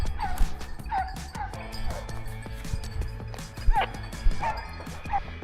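Hunting dogs bark in a boar hunt in the Cévennes, with several sharp yips and barks of varying distance, some loud and close, over outdoor rustling.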